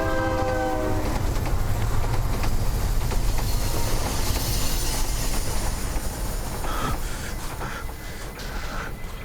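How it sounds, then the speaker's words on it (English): A train passes close by, loud and continuous, with a sustained horn blast at the start and a heavy rumbling roar of the rail cars that fades slightly toward the end, with no talk. "The train! The train!"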